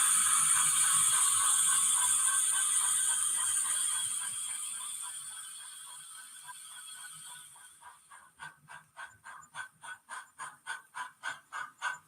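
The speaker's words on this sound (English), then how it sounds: "Coming from behind you is a Baldwin low boiler 460, which sounds something like this." A model Baldwin low boiler 4-6-0 locomotive runs with a steady hiss that fades, then picks up regular chuffing beats that grow faster and louder as it approaches. No one speaks.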